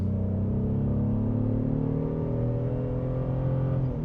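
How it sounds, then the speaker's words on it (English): A 2026 Honda Passport TrailSport Elite accelerates in sport mode, heard from inside as a steady, loud engine drone whose pitch rises slightly as revs climb. "So let's go ahead and just hit the accelerator here a little bit."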